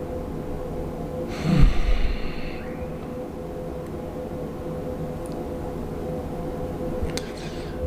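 A single deep breath drawn during a calm grounding pause, with a short gasp-like inhale near the start over a steady low background hum, then quiet.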